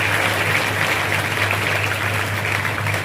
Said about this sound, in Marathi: प्रथम आपण सन्माननीय बाळदादांसाठी जोरदार टाळ्या झाल्याच पाहिजे